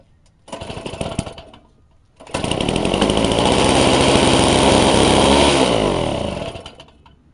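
A Yard Machines single-stage snowblower's small gas engine sputters briefly, cuts out, then roars back and runs loud and steady at close range for several seconds before winding down, no talking.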